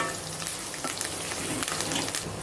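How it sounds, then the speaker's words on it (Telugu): Onion pieces frying in oil with dried red chillies and curry leaves for a raw mango fish curry, a steady soft sizzle with small crackling pops throughout. "ఉల్లిపాయ ముక్కల్ని కొద్దిసేపు ఒక రెండు నిమిషాలు ఫ్రై చేసుకోవాలి"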